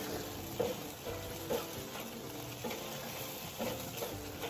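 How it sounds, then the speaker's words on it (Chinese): Pork rib noodles sizzle steadily in a hot wok, a continuous frying crackle broken by several soft scrapes and tosses of the stir-fry at an even pace. "继续炒至锅底水分收干"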